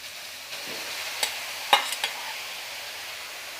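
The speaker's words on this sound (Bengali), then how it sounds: "গাজরগুলোকে ভালো করে ভেজে নেব।" Grated carrots frying in hot ghee over medium heat for gajar halwa, a soft continuous sizzle under a few faint scraping stirs and clinks of a spoon against the pan, with no talking.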